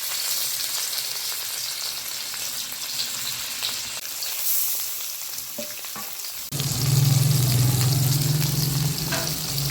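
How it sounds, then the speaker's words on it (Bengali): Hot oil crackles and sizzles steadily, then surges into a louder, denser frying hiss about two-thirds through as rohu fish hits the pan. "এদিকে তেলটা গরম হয়ে গেছে, এখন মাছটা দিয়ে দিই।"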